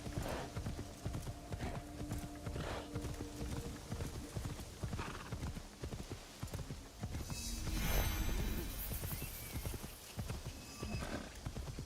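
Horse hooves clip-clop steadily while riding through Assassin's Creed Shadows, with a brief whinny and a louder swell of game effects midway, under low background sounds.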